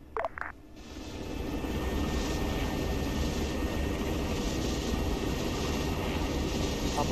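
A helicopter in flight carrying troops toward a desert landing zone, its rotor and engine forming a loud, steady, close roar that swells in after a few brief clicks at the start and holds without a break.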